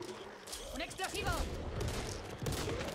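Gunfire in the zombie shooter Back 4 Blood, sharp shots and bursts crackling over game noise for about three seconds while someone talks over it.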